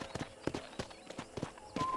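Horse hooves clip-clop at a walking pace on the ground in the Red Dead Redemption video game, the even strikes soft and moderately close.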